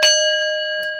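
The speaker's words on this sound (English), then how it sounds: "Hold on, ring the bell." A single bell struck once, loud and close, ringing with bright clear overtones that decay slowly, heard on its own.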